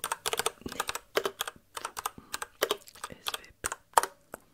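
Rapid clacking keystrokes on a gaming computer keyboard, close and crisp, in irregular quick bursts with short pauses between, alone without talk.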